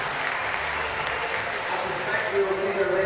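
Crowd applauding and cheering at an IFSC bouldering World Cup semi-final in Toronto, a steady wash of clapping with a commentator's voice over it.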